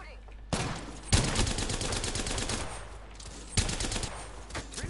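Loud, close bursts of rapid gunfire crack through a firefight with hostiles during a squad battle, with several heavy volleys and sustained automatic shooting rolling on between them.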